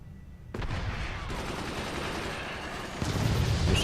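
Machine gun fire in the video game FORTS during a tournament match: rapid, dense bursts of shots run continuously, then grow louder and heavier near the end.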